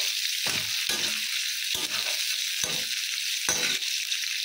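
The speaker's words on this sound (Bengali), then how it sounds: "পেঁয়াজ দিয়ে দিয়েছি, কড়া গরম হয়ে গেছে, খুব ভালো করে ভিজিয়ে নেব পেঁয়াজটা" Onions frying in oil in a hot kadai, a dense, steady sizzle throughout with several soft scraping thuds of a spatula stirring at irregular intervals, close and without talk.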